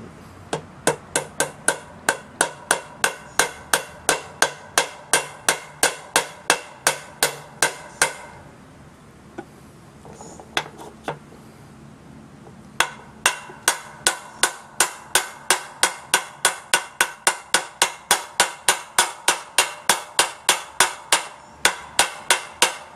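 A hammer taps the universal joint of a 2003 Chevy Avalanche in a fast, steady rhythm of sharp metallic clanks, pausing briefly midway before the rapid tapping resumes and continues.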